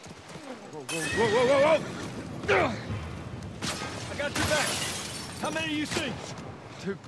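A horse in the video game The Last of Us Part I whinnies loudly several times in quick succession, with clattering and hoof-like knocks between the calls, close and prominent.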